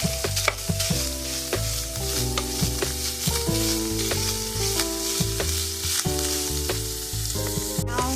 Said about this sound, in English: Now we're going to add in our pepperoni. I'm going to go ahead and mix that together.